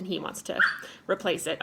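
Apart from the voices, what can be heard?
dog barking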